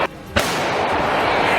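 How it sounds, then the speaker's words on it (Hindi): Heavy boom of Russian artillery shelling striking an enemy position, a sharp blast followed by a sustained rumbling roar, loud and dominant, after a brief quieter lead-in. "रूस के सैनिकों ने दुश्मन के ठिकाने पर एक के बाद एक कई जोरदार धमाके किए"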